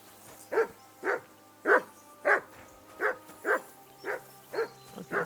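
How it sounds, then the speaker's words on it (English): Dog barking in the video game Kingdom Come Deliverance II: about ten sharp, evenly spaced barks in a steady rhythm, moderately close and clear, with faint ambient game sound and no talking. "Okay, so I can't Henry, call that dog to heel."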